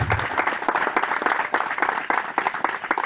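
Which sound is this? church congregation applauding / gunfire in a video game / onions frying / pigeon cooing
church congregation applauding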